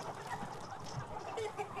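Chickens clucking on a farm, several birds making soft, continuous chatter at moderate distance, with a faint rooster-like call mixed in.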